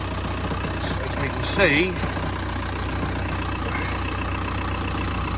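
Volkswagen Beetle engine idling with a steady low hum throughout while someone talks briefly over it near the start.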